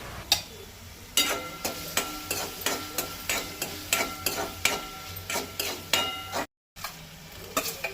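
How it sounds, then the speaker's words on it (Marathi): Chopped onion sautéed in hot oil for a Goan pavtta bhaji, with a spatula stirring and scraping the pan in a steady, regular rhythm over a soft continuous sizzle, close and fairly loud. "एक कांदो मोठो चिरून घेतला, तोवूय बरो 2 मिनटां तो परतूंक जाय तेजी"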